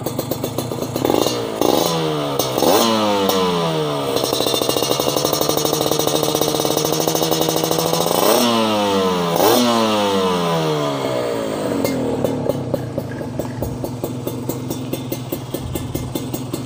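A Kawasaki Ninja RR two-stroke motorcycle engine revs hard and close by, its pitch sweeping up and down several times before it drops to a crackling, popping idle.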